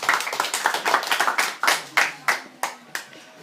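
Applause from the audience at a high school debate, a run of sharp hand claps that thins into scattered, separated claps, fairly close and loud with a faint voice underneath.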